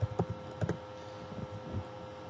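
Quiet clicks of typing on a computer keyboard at a command line, a few sharp keystrokes in quick bursts early on, then softer scattered taps against a low hum.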